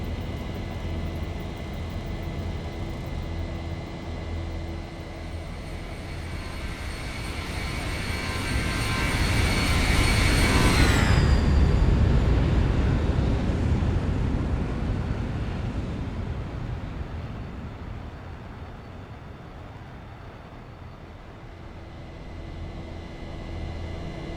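Simulated Boeing 737 jet engines at takeoff in X-Plane 11, a steady loud roar with high turbine whine that swells to a peak around the middle, with the whine sweeping downward, then eases back to a lower sustained rumble.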